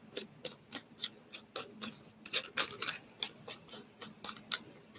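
Paper being torn by hand while making a magazine glue book, a series of short, crisp ripping bursts in an uneven rhythm, close and fairly loud, with no talking over them.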